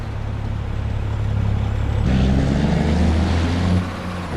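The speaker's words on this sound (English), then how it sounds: "the sound of the truck is not very good" A truck engine in Farming Simulator 25 drones steadily at a low pitch, close and fairly loud, then shifts to a slightly different tone about halfway through and holds on without any voices.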